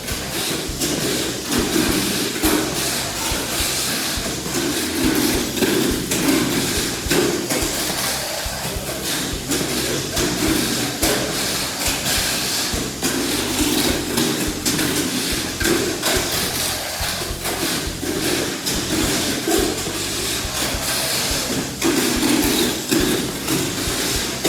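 A Tamiya Mini 4WD car with a hammer-style damper runs laps on a track, giving a steady rattling whir with repeated knocks and clatters as it hits sections, continuous and fairly loud for the whole stretch.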